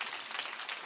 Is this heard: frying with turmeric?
no